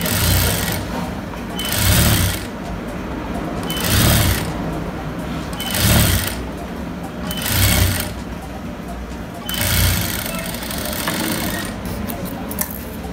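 Sewing machine stitching a folded churidar front neckline, its motor whirring in repeated bursts of about a second each, spaced roughly two seconds apart, with a steady background hum between runs.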